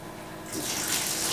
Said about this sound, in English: and then all that dirty water flows out